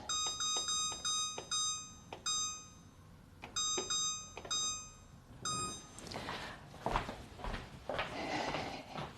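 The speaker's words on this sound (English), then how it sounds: "let me turn the timer on" A kitchen-style timer beeps in quick, loud bursts of electronic tones, several short pulse groups repeating near the mic for about six seconds before the beeping stops and rustling and movement noise take over.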